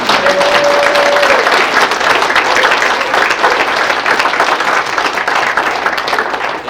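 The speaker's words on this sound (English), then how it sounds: "I think we should all give Kevin and Lisa and the staff a big hand of applause for putting on such a wonderful convention." Loud, sustained applause from a convention audience at a closing ceremony, thick continuous clapping that stays steady and slightly fades at the end, with a faint brief tone early on.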